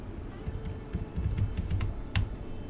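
Sharp computer keyboard keystrokes, including presses of the L key while drafting in AutoCAD, tap out in an irregular cluster of close, crisp clicks over a soft background hum, with no talking.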